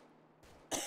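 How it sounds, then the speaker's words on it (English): A single short, sharp cough bursts out near the end after a quiet stretch, close and clear, in a prison management game. "And I got a cough."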